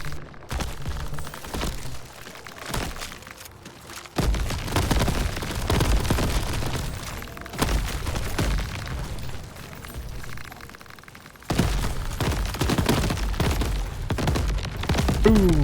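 Repeated video game barrel explosions boom out in loud bursts with sharp onsets at about 4 and 11.5 seconds, over a busy, dense bed of game action and music with no talking.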